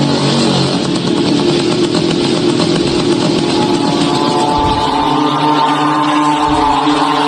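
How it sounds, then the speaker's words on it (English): A drone's piston engine drones steadily and loudly, a continuous motorcycle-like buzz with no pauses. "allowing the piston engine to take over. Hence, the motorcycle sound."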